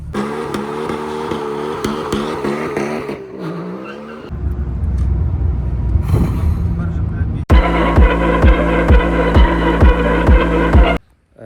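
A stage 2 tuned BMW E46 330cd diesel pulls hard in third gear, its engine droning loudly and rising in pitch, briefly dropping off mid-run before roaring back even louder and close up.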